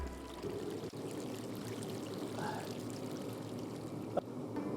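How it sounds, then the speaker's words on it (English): Water gushes steadily from a leak inside a farm building during a subzero freeze, a continuous broad rush with a faint clank near the end. "Mare, we got a big water leak down here."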